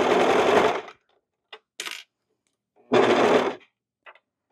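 Two short bursts of a sewing machine stitching a cocoon cardigan, each about a second of close, dense whirring, separated by quiet gaps with faint clicks and handling taps.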